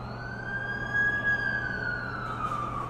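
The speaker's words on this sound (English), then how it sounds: "That's the ambulance I called." An ambulance siren wails in The Amazing Spider-Man 2 game, a steady, fairly close tone that slowly drifts in pitch over a low rumbling engine hum.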